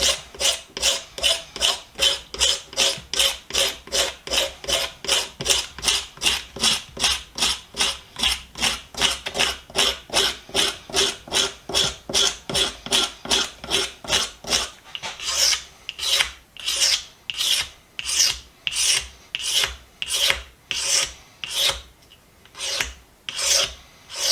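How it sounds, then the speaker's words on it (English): A scraper strips old finish from the wooden handle of a 3 lb lump hammer in steady, rhythmic rasping strokes, fast and even at first, then slower, harder pulls, close and loud with no talk. "Alright, we're going to start scraping the handle."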